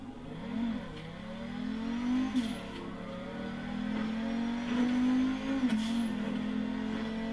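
Pegassi Osiris supercar engine in GTA 5, revving and rising in pitch with a couple of gear shifts, a steady mid-pitched drone heard at moderate loudness with no talk.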